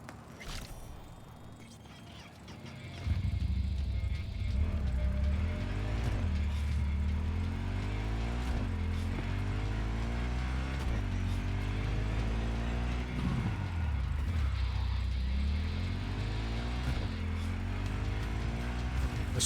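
Supra FS3 car in a video game starting up, then a steady engine drone with repeated revs rising and falling through gear changes, continuous and close.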